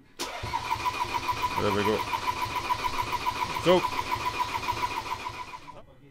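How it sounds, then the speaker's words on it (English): A 2015 Ford Transit 2.2 TDCi diesel engine cranks over and catches, a steady mechanical churn close by with a brief surge as it fires, while people talk over it. "So my friend's going to crank over and we'll see if we get a scope trace for the injector."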